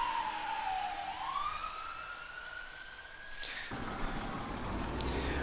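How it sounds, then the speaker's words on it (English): A fire truck siren passes outside, its wailing tone sweeping down and then rising into a long steady climb, fairly loud and continuous over a low background rumble, with no talking. "There goes a fire truck."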